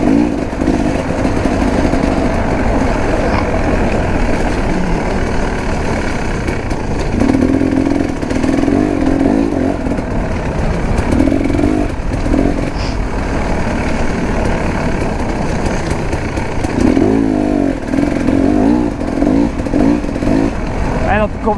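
KTM 300 two-stroke enduro motorcycle engine running steadily while riding downhill off-road, the close, loud engine drone rising and falling with throttle changes throughout.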